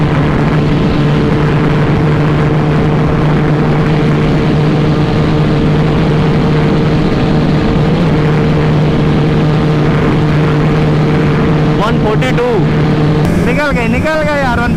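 KTM and Yamaha R15 motorcycles racing at speed, one bike hitting its rev limiter at 136, with steady loud engine drone and a rising whine near the end, under excited talk.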